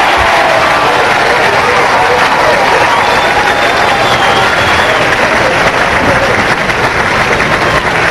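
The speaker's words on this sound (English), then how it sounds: "Crowd reacting to Walter Ray's shot." A crowd at the 1997 Petraglia Open pro bowling tournament bursts into loud applause and cheering after a strike, a dense roar of clapping and shouts filling the whole stretch.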